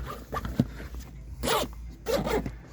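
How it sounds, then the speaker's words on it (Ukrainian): Zipper on a VW Transporter T6 Multivan trunk window bag with large double-slider hardware, pulled in several short rasping strokes with brief pauses, close and fairly loud. "Крупну фурнітуру з двома змійками"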